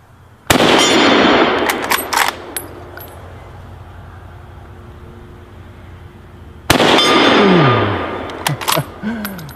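A rifle with a bayonet fixed is fired outdoors in two loud, sharp single shots about six seconds apart, each with a long decaying echo and a few small clicks and rattles trailing after.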